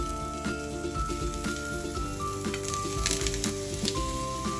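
Onion sizzling in hot oil in a pan while beef pepper rice is being cooked. The hiss is steady and crackly and runs the whole time, with soft clinks and scrapes of the pan mixed in.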